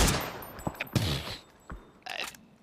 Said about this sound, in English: That is a pixel headshot coming through from a Nonix.